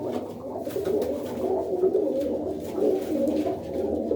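Pigeons in a rooftop loft coo continuously, a dense, steady murmur of overlapping low calls from several birds close by, with no voices.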